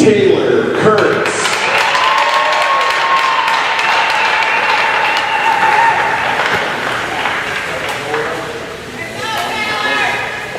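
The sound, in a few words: audience applause for the girls' tournament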